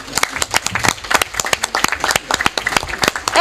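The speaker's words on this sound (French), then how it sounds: "Mesdames, nous allons applaudir tous les hommes qui sont ici là." Applause from the audience at a South-South cooperation symposium, made up of individual claps from a modest group, sharp and distinct with an uneven rhythm, close and fairly loud.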